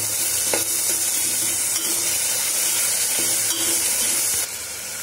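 Tomatoes sizzle steadily in a hot pan while being stirred, a dense continuous frying hiss with occasional scrapes and clinks of the spoon, close and fairly loud with no talking.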